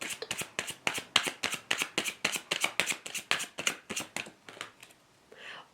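Tarot cards riffled and shuffled by hand in a quick, even run of about fifteen crisp slaps, close and quiet, ending with a softer rustle as a card is drawn.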